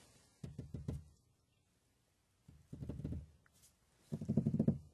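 A hand knocking on a car window at a cat outside: three separate bursts of quick knuckle raps, each a short run of four or five close, dull taps with quiet pauses between.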